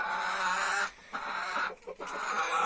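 Chickens cluck steadily in a laying flock on a Turkish farm, a dense, close chorus of layer hens with brief dips in volume, no voices.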